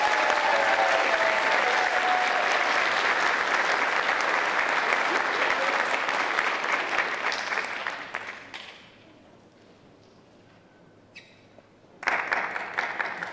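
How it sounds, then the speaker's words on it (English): An audience applauds pageant contestants, loud sustained crowd clapping for about eight seconds that fades away, followed by a brief lull before a voice speaks again. "We can give them one more round of applause"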